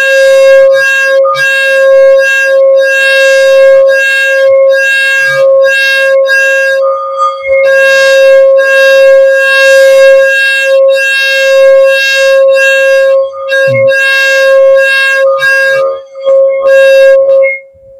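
An antique Ming dynasty bowl is played as a singing bowl, giving a loud, sustained, piercing ring with a steady tone, broken by brief choppy pulses and dips, that grows stronger over eighteen seconds.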